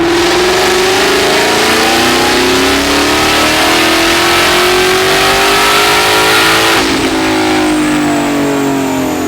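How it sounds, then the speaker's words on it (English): A stock-exhaust 2016 Roush-supercharged Mustang GT revs hard at wide-open throttle, its loud engine note climbing steadily for about seven seconds before a quick upshift drops the pitch and the pull resumes. No one speaks. "this is a 2016 Mustang GT with a Roush, right?"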